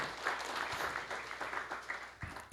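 An audience claps steadily for about two and a half seconds at a Hindu devotional discourse, a dense, even patter of many hands with no voices over it.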